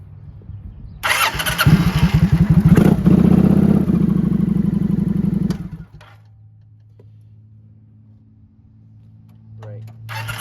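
A 2009 Kawasaki Vulcan 900 motorcycle engine cranks and fires, runs loud and rumbling for several seconds, then shuts off, leaving quiet handling sounds and a faint low hum.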